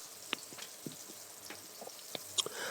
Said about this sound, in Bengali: আরও কিছুক্ষণ নাড়াচাড়া করে মোট 10 মিনিটের মতন এগুলোকে ভাজবো